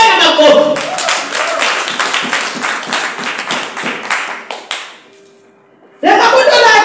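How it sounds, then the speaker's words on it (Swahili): A congregation at a Sunday church service breaks into loud, dense applause that runs steadily for about five seconds, fades into near silence, then swells abruptly again at the end. "Tupewe na makofi"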